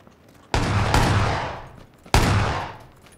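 Two loud, close gunshots in PUBG during a first-person match among buildings, each a sharp blast with a long echoing tail, spaced about a second and a half apart with no talk.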